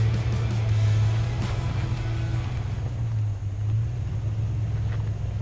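A 2016 Toyota Tacoma truck climbing the rocky Pennsylvania Gulch off-road trail in Colorado, a low steady engine rumble that drones on near and fairly loud, with no voices.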